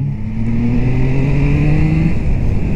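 A Triumph Trident 660 motorcycle engine revs up steadily and loudly close by, its rising drone sustained over a rumbling background.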